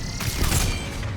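Dense, continuous gunfire rattles in Mass Effect 3 as discs are shot, a loud, unbroken burst filling the whole moment.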